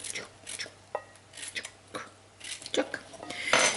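Chicken stir fry with yellow squash being stirred in a pan, giving soft scraping and clinking of a utensil against the pan in irregular bursts, fairly faint and close, with light rustling between strokes.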